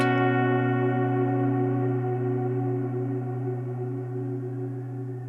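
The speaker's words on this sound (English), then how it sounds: "hopefully those effects are going to give me a more choral type sound" An electric guitar played through a ToneX pedal into a BOSS GT1000 with chorus-type effects rings out as one sustained chord, struck at the start and slowly fading with a shimmering, modulated tail, heard alone.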